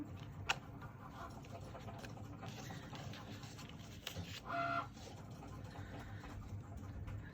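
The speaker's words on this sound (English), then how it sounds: "I'll just keep the Cricut. It's nearly done cutting." A Cricut cutting machine works nearby with quiet, whirring motor runs and small clicks as the blade carriage moves, including one brief louder buzzing pass, all fairly faint.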